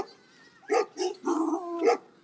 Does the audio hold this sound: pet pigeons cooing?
no